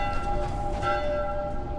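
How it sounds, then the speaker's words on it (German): Church bells ringing in the video game The Last of Us, a sustained metallic ring with lingering tones, moderately loud over a low background rumble. "Irgendeiner muss die Glocken ja läuten."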